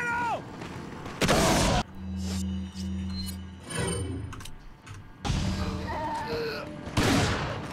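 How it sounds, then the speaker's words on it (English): A shotgun blast in Resident Evil 4 cuts through a tense game soundscape: loud bursts near the start and again near the end, separated by lower droning and scattered impacts, with no talk. "I am gonna flash again, and then I'm just gonna shotgun immediately"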